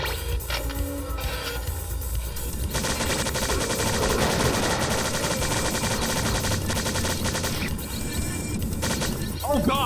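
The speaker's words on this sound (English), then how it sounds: "I can waste everyone's time by shooting nothing but fucking electric bolts down there" The electric bolt weapon in the video game Strife fires in a long, dense rattling barrage of crackling, buzzing shots, loud and continuous, with game effects before and after.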